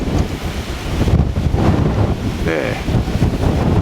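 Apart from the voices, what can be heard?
strong wind at a model airplane flying field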